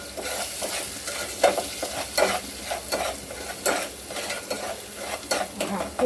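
Sweet puran filling is stirred and fried in a pan, with a soft steady sizzle under repeated scraping strokes of a spoon against the metal, close and moderately quiet, no voices.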